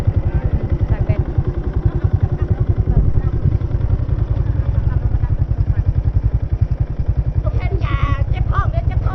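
A motorcycle ridden along a road on a long 600 km trip, its engine putting out a steady, loud, pulsing drone throughout, with a brief high clatter near the end.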